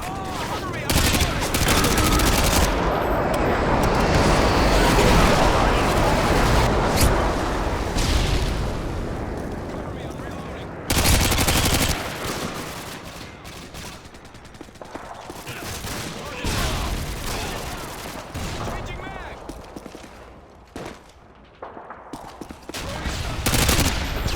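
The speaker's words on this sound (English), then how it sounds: "Friendly airstrike inbound." Call of Duty Modern Warfare 2 Domination match: loud, dense gunfire and explosive airstrike blasts roll almost continuously, with bursts of automatic fire, brief lulls near the middle, and game voice callouts mixed in.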